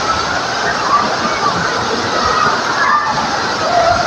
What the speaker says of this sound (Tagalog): Hanggang doon, baha na siya